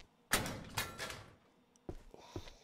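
Electronically locked doors in the horror game Meat Saw rattle and thud as they are tried, two heavy clunks followed by a pair of quieter knocks, with an echoing mechanical resonance.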